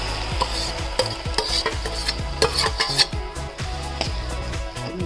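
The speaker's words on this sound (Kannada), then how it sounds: "ಬೇಯಿಸ್ಕೊಂಡಿರೋ ಬೇಳೆ ಸೇರಿಸ್ತಾ ಇದ್ದೇನೆ" Cooked dal stirred into frying tomato and onion in a pan gives close, rhythmic spoon scrapes over a soft sizzle.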